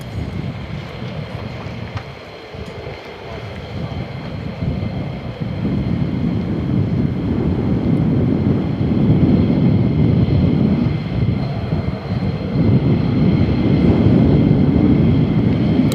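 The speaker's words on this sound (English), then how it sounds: "Yeah, it is really windy." Strong wind buffeting an outdoor microphone at RAF Lakenheath, a loud continuous low roar that eases briefly, then swells and stays heavy and gusty, with no voices.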